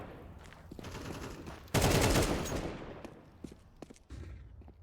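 Rapid gunfire in Counter-Strike 2 during a women's esports match: a dense, loud burst of automatic fire that runs for about a second, followed by scattered single shots and quieter in-game noise.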